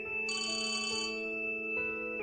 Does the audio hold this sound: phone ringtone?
yes